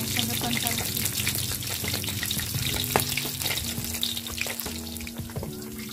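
Milkfish (bangus) fries in hot oil, a steady, close crackling sizzle with scattered pops that runs the whole time, with a little background clatter.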